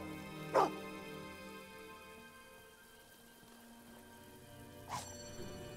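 A dog in the video game Fable II gives two short, sharp barks a few seconds apart, the first near the start and the second near the end, over a quiet steady game background.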